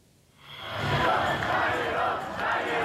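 Large concert crowd booing as a band is cleared from the stage: a sustained roar of many voices swells up quickly and holds at a loud, even level.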